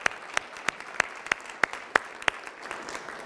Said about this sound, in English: let's get a round of applause for Tawana for putting this together